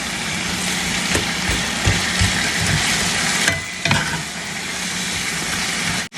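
Potatoes and onions fry in hot oil in a pan, giving a dense, continuous close sizzle with occasional stirring knocks, then cutting out abruptly at the end.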